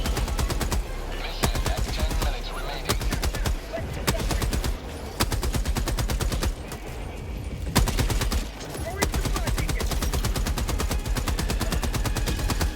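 Heavy weapon fire and repeated blasts from a mortar strike in the shooter Helldivers 2, a dense, loud barrage of sharp booming hits and rattling bursts that carries on for over twelve seconds, with brief lulls.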